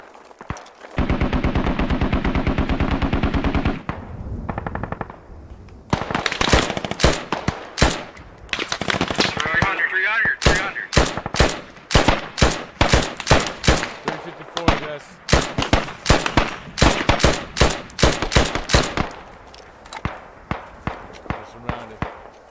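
Rapid bursts of gunfire from the video game Squad in an insurgent defense match, dense volleys of loud sharp shots with some automatic strings, a steady buzzing tone at the start, and voices talking intermittently between the shots.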